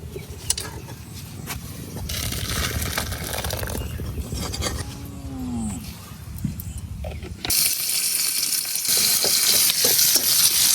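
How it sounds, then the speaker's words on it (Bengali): Dal tempering (bagar) sizzling in hot oil for thin masoor dal, a steady broad frying hiss with stirring clatter that swells louder and brighter toward the end, close up. "এখন আমি ডালটার বাগার দিলাম, ডালটা নামাই লইতেছি"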